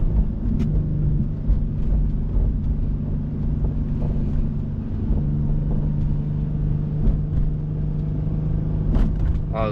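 Steady low engine and road rumble inside an Infiniti G37x coupe with a 50K-mile drivetrain swap, driving over a rough, bumpy road, with occasional thumps from the bumps under a constant drone.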